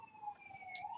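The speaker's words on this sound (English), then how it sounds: "please forgive the sirens in the background, can't help that" Emergency vehicle siren wailing in the background, a steady rising tone heard at a distance under faint ambient noise, with no voices.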